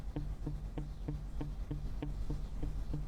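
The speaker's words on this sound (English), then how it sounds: "It's a very clean, basic muted guitar." A clean, basic muted electric guitar, unedited, plucks short damped notes in an even repeating rhythm, each a dull thud with a brief buzzy attack, steady and fairly quiet.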